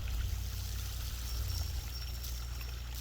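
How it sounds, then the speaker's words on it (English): Hot water draining off sliced red onions after a one-minute soak, heard outdoors as a steady, soft pouring stream that runs evenly throughout. "onions have been sitting in the hot water for 1 minute, and we drain them"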